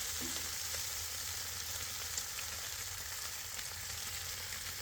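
Corn smoked bacon frying in a pan gives a steady, dense sizzle and crackle, close and fairly loud throughout, with no talking.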